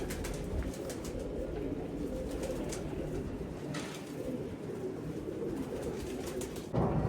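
Pigeon cooing nearby in a low, soft, repeated throaty call over a steady background hum, with no one talking.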